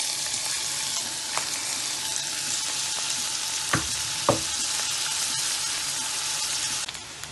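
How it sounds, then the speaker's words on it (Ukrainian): Onion frying in a pan for a purslane and mushroom dish, a loud continuous sizzle throughout with two brief utensil clacks partway through. "Перша у нас іде цибуля на пательню."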